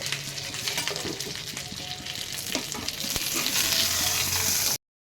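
An egg pancake sizzles in a pan with a steady close crackle, punctuated by a few sharp clicks and scrapes, before the sound stops abruptly.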